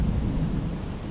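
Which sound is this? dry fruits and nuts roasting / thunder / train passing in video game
thunder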